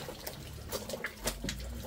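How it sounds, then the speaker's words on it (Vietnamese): Rice liquor poured out at a Vietnamese pig-blood-pudding gathering among friends: a short, fairly quiet trickle of liquid lasting about two seconds, with faint background clatter. "một anh rót rượu ra"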